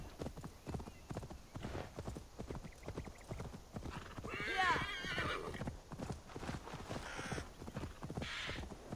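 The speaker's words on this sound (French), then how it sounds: "Et mon cheval." A horse gallops with steady clip-clop hoofbeats and neighs in Assassin's Creed Valhalla, with bird caws mixed in and someone talking over the game sound throughout.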